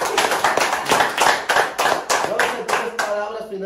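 Rhythmic clapping rings out in a steady, evenly spaced beat of sharp, close claps, roughly three or four per second, at an interview with a dancer and choreographer, ending with a faint voice.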